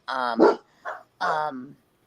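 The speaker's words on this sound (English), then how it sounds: "Can you please stop these dogs?" Dogs bark indoors in three close, loud, high yapping barks, with short pauses between them.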